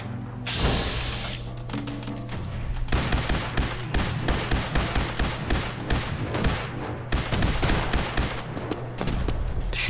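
Rapid bursts of automatic gunfire from a different weapon in Fallout 4's Far Harbor expansion, loud and close, with repeated volleys and thuds running through most of the stretch over a steady low game hum.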